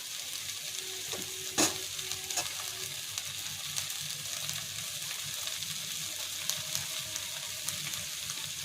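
Egg filling for a Bengali-style Mughlai paratha, with tomato ketchup added, frying in a pan and catching a little on the bottom: a soft continuous sizzle with occasional sharp scrapes and one clank of a stirring spoon, quiet and close without talk.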